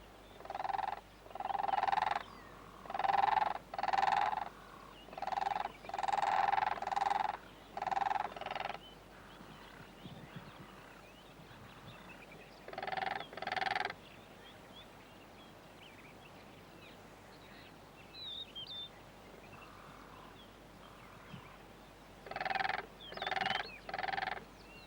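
Two cranes on the African savanna near a waterhole call in alarm at a hidden lion, giving loud repeated honking bursts in clustered series, then pausing before another pair of calls and a final cluster, with no talk.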